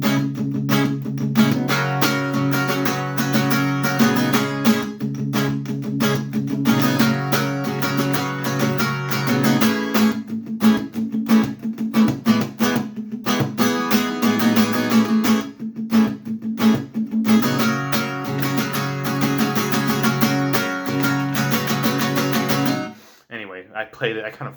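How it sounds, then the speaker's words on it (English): Electric guitar riff with palm-muted chords for a song's middle eight: dense, chugging, choppy rhythm playing continuously and loudly for over twenty seconds, ending abruptly. "So instead, I did the same chords, but I used palm muting."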